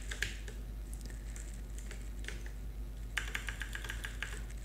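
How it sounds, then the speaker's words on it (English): Soft computer keyboard typing while entering values, faint scattered keystrokes in short bursts with a louder flurry near the end, no talking. "I will type values."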